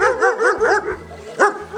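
A German shepherd barks loudly and close by: a quick run of four sharp barks, a short pause, then one more bark.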